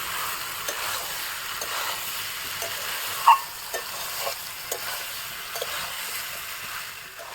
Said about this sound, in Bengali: এঁচোড়ের সঙ্গে আলুগুলো খুব ভালো করে কষিয়ে নেব।